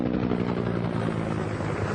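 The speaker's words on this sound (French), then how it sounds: "Je vais faire croire que l'hélicoptère s'est écrasé." A helicopter in a video game flying toward a mountain, a steady rotor thump and engine drone, close and continuous throughout with no voices.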